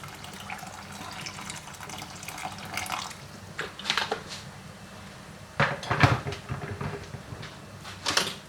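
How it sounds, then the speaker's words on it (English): Warm kettle water is poured into a pot of Jamaican rice and peas, a soft splashing pour broken by clinks of pot and utensils against a steady kitchen background, with no talking. "So I'm just going to use the warm water that I've got and just top it up."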